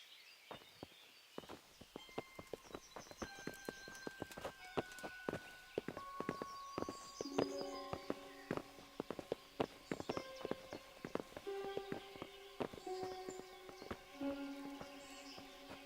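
Horse hooves clip-clop across a medieval scene in Kingdom Come: Deliverance, a run of sharp, uneven knocks that starts after a brief quiet, with sustained musical tones ringing alongside.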